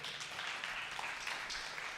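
An audience at a spiritual talk claps steadily in a dense, continuous burst of applause, moderately loud and even throughout, with no speech over it.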